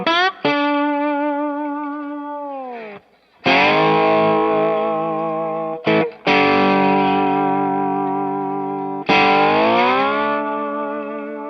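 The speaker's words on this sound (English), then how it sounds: "Here's the tone with the Cali76 off" Overdriven electric slide guitar with the Cali76 compressor switched off, playing sustained distorted notes that glide and waver up and down in pitch, in four long phrases with short gaps, loud and solo.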